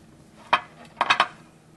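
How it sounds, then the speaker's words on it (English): Dishes pulled from a home kitchen cabinet while an antipasto platter is assembled, heard as one knock followed by a quick cluster of three close clatters, with no voices. "this is when I start pulling out my dishes"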